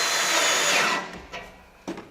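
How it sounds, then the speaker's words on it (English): A power drill whirs steadily and slowly driving a Tek screw into a steel raised garden bed, then cuts out, followed by a few light knocks and clicks. "Now the thing is to put some pressure on and drill slowly."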